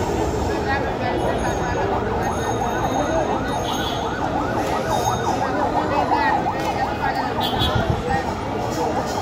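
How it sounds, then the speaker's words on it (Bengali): An ambulance siren wails on a busy street near Dhaka Medical, its pitch sweeping up and down steadily over loud continuous traffic noise. "সামনে ঢাকা মেডিকেল, তাই এখান থেকে বেশি বেশি অ্যাম্বুলেন্স যাতায়াত করবে।"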